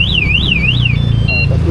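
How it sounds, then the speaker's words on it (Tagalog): Anti-theft alarm on a Yamaha Aerox V3 motorcycle, loud and close, first a rising-and-falling siren wail repeating three times, then shifting into steady electronic tones, over a low background hum. "literal na mag-a-alarm siya, kagaya na to"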